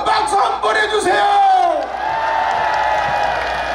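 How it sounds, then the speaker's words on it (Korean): A crowd cheers and shouts with broad noisy applause, a few voices calling out above the steady roar. "큰 박수 한번 해주세요"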